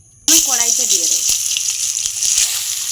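Brinjal slices rubbed with salt and turmeric drop into hot oil in a kadai and burst into a loud, steady sizzle that carries on close by, with a few soft clinks of a utensil.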